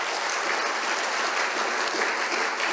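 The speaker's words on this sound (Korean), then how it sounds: "우리 박수로 한번 격려하겠습니다" A church congregation applauds its choir after a Sunday service hymn, a steady dense wash of many hands clapping without a break, fairly close and filling the room.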